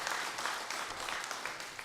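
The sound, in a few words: audience applause in church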